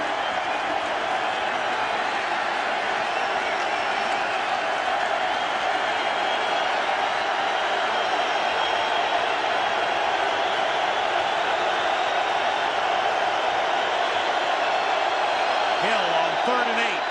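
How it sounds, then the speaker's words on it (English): A steady wall of stadium crowd noise rolls on at a Minnesota Vikings home NFL game against the San Francisco 49ers, loud and continuous for the whole stretch with only slight swells. "The crowd noise picks up."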